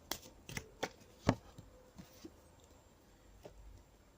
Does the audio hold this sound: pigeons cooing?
no